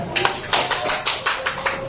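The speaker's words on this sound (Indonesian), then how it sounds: "tepuk tangan buat kalian" Students in a classroom clap for themselves after a discussion, giving a short burst of rhythmic, fairly regular claps with a faint tonal hum beneath.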